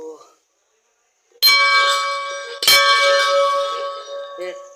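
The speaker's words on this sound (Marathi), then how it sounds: "घंटा वाजवला" A metal temple bell at the Shri Bhairavnath temple in Khed rings twice, each strike clanging loudly and leaving a long shimmering ring; a faint voice is heard briefly at the start.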